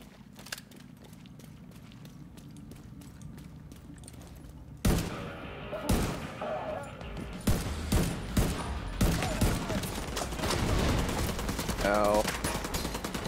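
Rapid bursts of gunfire with explosive rounds in the video game Division 2, loud clustered shots and bangs that grow denser in the second half, alone without talk.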